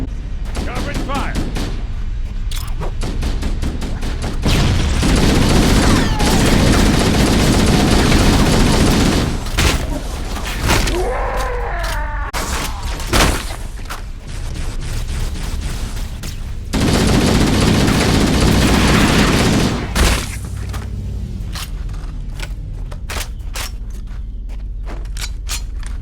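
Sustained bursts of automatic gunfire in the Halo: Combat Evolved battlefield, dense and loud, with brief lulls and renewed volleys, mixed with game voice shouts.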